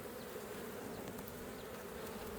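Honey bees swarm around an opened hive during a late-season check before winter, making a dense, steady buzz that stays close and loud throughout, with no voices.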